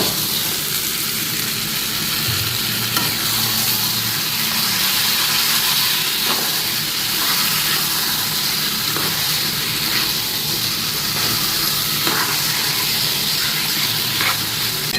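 Colocasia greens go into a spice paste frying in a pan, giving a steady, close hissing sizzle with a few faint clicks and stirring knocks throughout.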